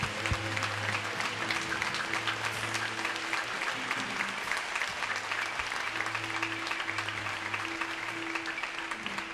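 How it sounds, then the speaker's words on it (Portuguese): Sustained loud applause from a church congregation, steady clapping throughout with a faint musical hum underneath. "dá uma salva de palmas ao Senhor"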